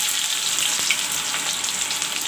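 Chopped onions go into hot oil that already holds garlic, hissing in a dense, continuous sizzle. The frying sounds close and fairly loud, with no talking over it.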